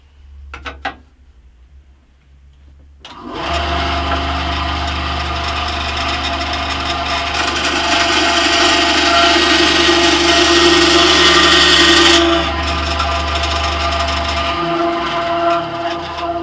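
A Scheppach HBS20 bandsaw starts up after a couple of faint clicks and runs with a loud, steady motor whine and blade hum. A rising rasp follows as the blade cuts through wood, then eases off as the saw keeps running.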